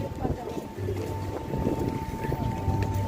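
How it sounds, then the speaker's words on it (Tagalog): Strong wind gusting on an outdoor livestream, rumbling steadily as a broad roar across the whole clip, with voices speaking over it. "Tol, mahangin, tol."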